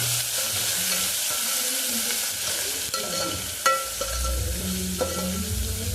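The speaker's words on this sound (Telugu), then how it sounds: "టమాటా, అల్లం వెల్లుల్లి పేస్ట్ బాగా మగ్గిపోయి మంచి కలర్ వచ్చేసింది" Tomato and ginger-garlic paste masala fries in a pan for bagara rice, sizzling softly under the scrape and clink of a stirring spoon, with a few sharper knocks against the pan.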